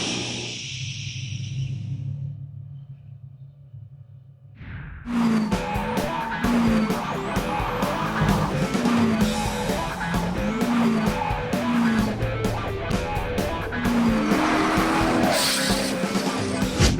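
A twin-turbo, rear-mounted C6 Corvette roars at full throttle, tires squealing repeatedly in rhythmic chirps as it slides through turns, loud and close after a few seconds of quieter ambient sound.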